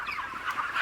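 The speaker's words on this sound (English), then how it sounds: "the chickens are a high maintenance bird, and they're well maintained in this environment" Chickens cluck softly inside a commercial chicken house fitted with water lines, feed lines, heaters and ventilation, a brief murmuring flock sound with no talk.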